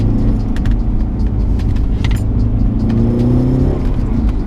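Loud, deep engine rumble from a straight-piped 2005 Alfa Romeo 147 JTD diesel revving up, close and continuous, with a rising note toward the end.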